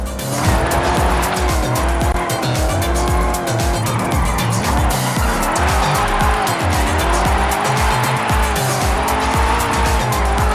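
Race car drifting uphill in Forza Horizon 5, with a loud revving engine whose pitch rises and falls continuously under sustained tire squeal and skidding, close and unbroken throughout.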